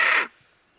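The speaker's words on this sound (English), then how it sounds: "All the birds must have heard our chick because it was really," Wild macaws give one brief, harsh, raucous squawk, loud and close, lasting about a quarter second before cutting off into near silence.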